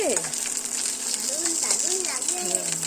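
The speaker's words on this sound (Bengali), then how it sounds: "দেখো পাঁপড় ভাজা হচ্ছে কি সুন্দর রঙিন রঙিন পাঁপড়" Colourful papad fry in hot oil with a steady bright sizzle up close, while a voice and other chatter carry on over the frying.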